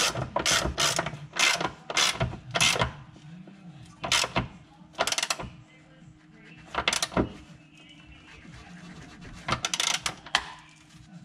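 Ratchet wrench tightening an 18mm bolt on a VW T5 rear shock absorber: repeated bursts of rapid metallic clicking strokes, close and loud, with brief pauses between pulls.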